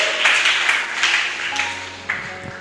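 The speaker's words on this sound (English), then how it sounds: "Then clap your hands for Jesus." Scattered hand clapping from a church congregation during a prophetic ministry service, a few uneven bursts of claps, fairly faint and distant, without talk over it.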